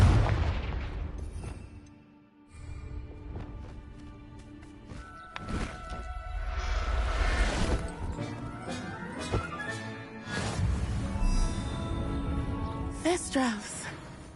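A Confringo blasting spell explodes in Hogwarts Legacy, with booming bursts and a loud blast rolling out mid-clip under a speaking voice, several sharper pops following.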